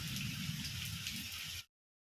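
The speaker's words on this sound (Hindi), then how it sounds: "तो ये देख लीजिए बारिश स्टार्ट हो गया है।" Steady rain falls on a home porch during a monsoon low-pressure spell, a continuous close hiss of drops pattering on surfaces that runs unbroken and then cuts off abruptly.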